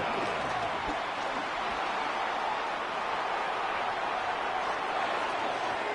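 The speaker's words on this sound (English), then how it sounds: "Crowd on their feet for 3rd and 4." Steady, dense stadium crowd roar in the Madden 26 football video game, a broad continuous wash of cheering that holds at an even level throughout with no single voices standing out.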